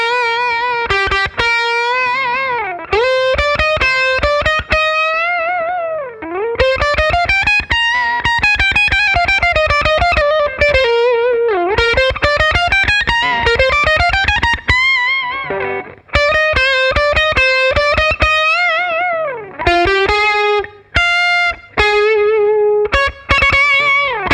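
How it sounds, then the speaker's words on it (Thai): Distorted electric guitar through a Marshall amp and Celestion speakers plays loud, sustained melodic lead lines and bends in an 80s rock style, continuous with short gaps and no voices. "เสียงแตกเลยดีกว่า โอเค แตกตู้"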